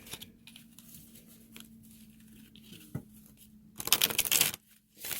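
Tarot cards riffle and shuffle close up with soft papery flicks, ending in a louder burst of rapid shuffling before a brief pause.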